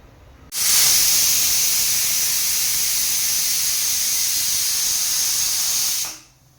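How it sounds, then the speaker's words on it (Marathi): A pressure cooker cooking green moong lets out one long, loud, steady steam whistle, a hissing shriek that starts suddenly and holds for over five seconds before fading away. No speech. "तर आता कुकरच्या 4-5 शिट्ट्या येऊ द्या"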